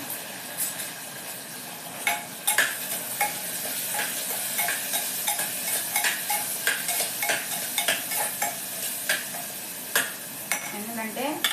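Onions fry for mutton keema curry under a low, constant sizzle, while a spoon stirs and scrapes the pan in repeated bursts of clinks and knocks.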